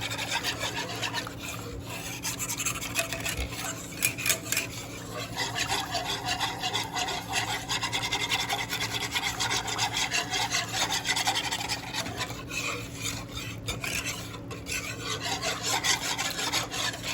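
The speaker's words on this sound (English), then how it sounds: "Stir it." Gravy made with added warm water is stirred in a pan, a steady scraping and rubbing that runs on in repeated strokes, fairly quiet and with no talk.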